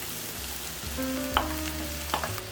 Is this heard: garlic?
yes